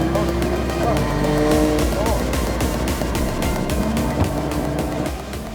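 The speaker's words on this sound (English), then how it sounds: "the NZ Vertex GT Radials 180 of Michael Thorley starts to warm up his tyres" A drift car at a D1NZ drifting championship round in Taupo, the NZ Vertex GT Radials 180 driven by Michael Thorley, revs and spins its tyres to warm them, producing a loud sustained engine roar with rhythmic pulsing and tyre squeal over steady background noise.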